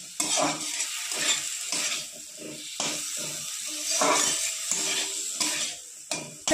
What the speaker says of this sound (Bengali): হালকা করে ভাজাটা ভেজে নিয়েছি, এবার আমি তুলে নেব